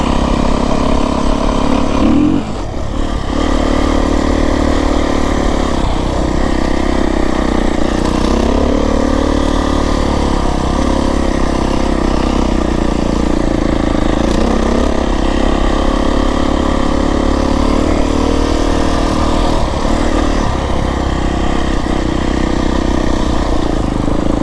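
A Beta 350RR X-Pro dirt bike engine drones steadily and loud throughout a trail ride in the Santa Rita Mountains, holding a low, constant pitch with slight swells and no voice over it.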